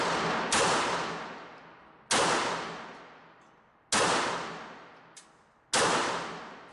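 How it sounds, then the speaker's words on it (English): Four loud, sharp pistol shots from a Lucznik P-64 chambered in 9x18 Makarov, spaced unevenly about two seconds apart, each with a long ringing decay and no talking. "My first shot was dead on, and even my follow-up shots were easily on target"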